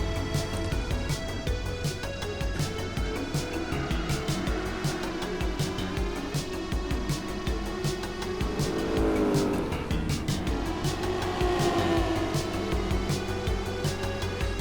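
Racing cars in Gran Turismo 4, including a big Buick land yacht, with engines roaring loudly and steadily throughout, tires squealing and cars rushing past in a continuous close-up race.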